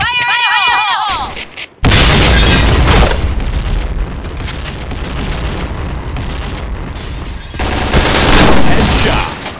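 A grenade blast and rapid gunfire in a shooter video game, a sudden loud boom followed by sustained dense firing and bursts, loud and close.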